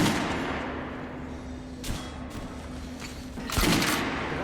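Gunfire from weapons in the video game Metro: Last Light Redux, with two sharp, loud shots about two seconds apart over a low steady hum.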